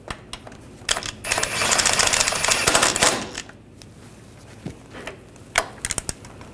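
Control arm bolts on a 2014-2018 GMC Sierra 1500 are run down with a ratchet, a long loud clicking burst of about two seconds flanked by scattered metallic clinks and taps nearby.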